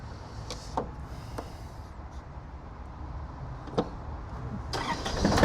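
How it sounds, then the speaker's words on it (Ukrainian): An Iseki TA235 tractor diesel engine cranks and turns over amid a steady noisy rumble, with a few sharp clicks scattered throughout and the sound building louder at the end. "і тоді вже запускаємо двигун"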